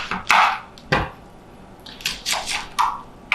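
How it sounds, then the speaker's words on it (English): A knife chops onion on a cutting board in a handful of sharp, close knocks and crunches, spaced unevenly, with no talking. "Now we're going to chop some onion"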